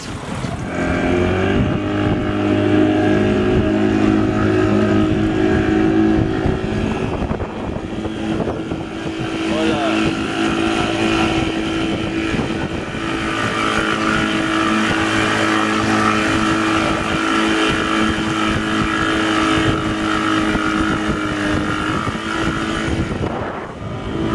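A motorboat engine drones steadily and loudly aboard a vessel crossing a lake at the Peru–Bolivia border, with a constant close hum and wind and water noise throughout.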